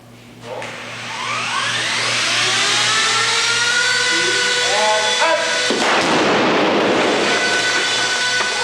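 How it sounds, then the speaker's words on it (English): A miniature movie-set model blows up for a film shot, a loud rising whoosh and roar that swells from about one second, then a deep blast that rolls on to the end. "The explosion is impressive"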